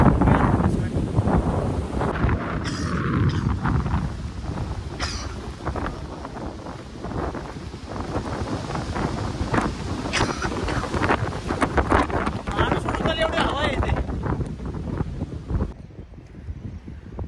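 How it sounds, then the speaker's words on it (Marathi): Strong wind at Bhandardara dam in Maharashtra during rainy camping, roaring continuously into the microphone with heavy buffeting rumble throughout, loud and close, with faint voices briefly under it. "हवा खूप सुटली आहे."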